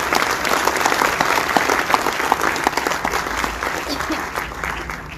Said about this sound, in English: Can we please have a warm round of applause to welcome Justice Rebello.